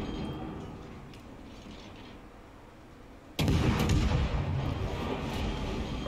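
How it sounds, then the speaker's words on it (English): Gunfire erupts in the Orkan video game, a sudden heavy burst of booming shots that breaks into a low rumbling background and keeps rolling at loud level. "Oh, shots fired at me."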